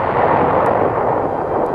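Artillery fire pounding German positions near Konzen in a WWII newsreel: a loud, continuous rumbling roar of blasts with dense low-end energy throughout and no speech.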